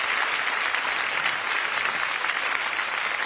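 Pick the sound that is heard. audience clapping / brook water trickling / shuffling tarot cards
audience clapping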